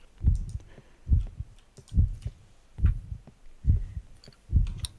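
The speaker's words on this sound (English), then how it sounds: "This heartbeat thing's really annoying." In the horror video game Pacify, a heartbeat sound effect thumps in steady, deep double beats, six evenly spaced pulses at a slow resting pace, close and prominent with faint clicks between them and no speech.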